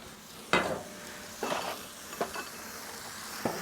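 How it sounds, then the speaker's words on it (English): Seasoned ground beef sizzles on a Blackstone flat-top griddle over high heat, with a spatula scraping and clanking against the metal surface in a few distinct strokes over a steady frying hiss. "we're just gonna start browning the ground beef"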